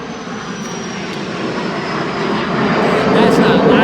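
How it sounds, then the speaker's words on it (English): A fast jet aircraft passes overhead outdoors, a broad roaring whoosh that builds steadily in loudness, heard over a quiet woodland setting. "That was a pretty fast jet too."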